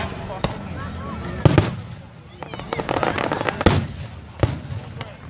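WEBN fireworks burst outdoors as a string of sharp, booming explosions with crackling tails, spaced irregularly over a few seconds while people talk nearby.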